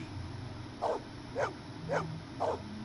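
Maggie, the dog in Blade Runner, lets out four evenly spaced, moderately loud barks over a low background hum.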